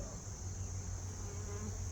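Carniolan and Italian mix honey bees from a nucleus package hum steadily around an open hive during an inspection, a faint continuous buzz with no voices.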